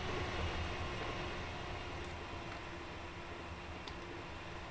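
A train runs in Transport Fever 2, giving a broad, steady rumble and hiss with a faint tonal hum and a few light clicks, continuous and unbroken by talk.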